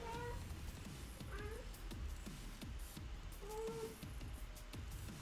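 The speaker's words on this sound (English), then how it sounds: "Crazy cat." A house cat meows repeatedly, three or four distinct rising-falling meows spaced about a second or two apart, fairly close but soft, over low rustling and handling noise.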